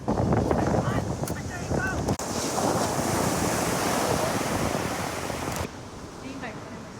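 Sea waves roll onto a beach in a steady, loud surf roar, mixed with gusty wind buffeting the microphone and a brief dip in the noise partway through.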